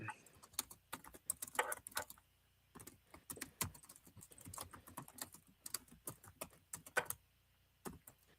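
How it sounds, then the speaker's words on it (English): Quiet typing on a computer keyboard, irregular bursts of clicking keystrokes with brief pauses between them. "Can you hear that typing?"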